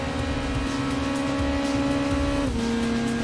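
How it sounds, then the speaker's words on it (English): A high-revving Toyota race car engine screams steadily in Gran Turismo 2, holding a tight, whining note before a quick drop as it shifts gears, loud and close with no talk. "Sounds like an even higher revving Super Toro."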